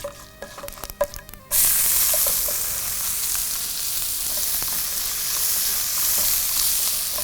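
Urad dal dropped into hot oil: after a second or so of clattering and quieter noise, a loud, steady frying sizzle starts abruptly and continues evenly to the end.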